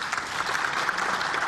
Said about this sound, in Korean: 의원석에서 박수가 나옵니다